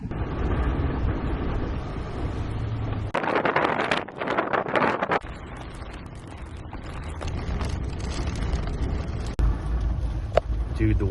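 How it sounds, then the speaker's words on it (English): Strong straight-line thunderstorm winds blow across an open field around a small 13 ft Scamp travel trailer, roaring steadily and buffeting the microphone with rattling gusts and bangs, while people talk. "It's just a big old field, so it's just straight line winds"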